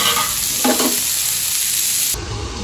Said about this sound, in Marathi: हे पनीर आपल्याला फ्राईड करायचं